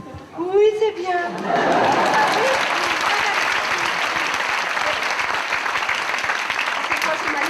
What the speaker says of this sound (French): C'est quoi ce manière d'applaudir là?